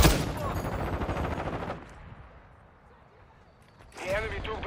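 Rapid automatic gunfire from a Call of Duty: Modern Warfare 2 multiplayer match, loud bursts for the first couple of seconds under shouted game voice lines, then a quieter gap before more clattering fire and voices return.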